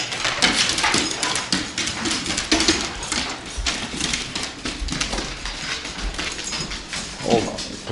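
Dogs whimper and whine repeatedly, close and fairly loud, with rustling and shuffling mixed in and brief talk from a person nearby.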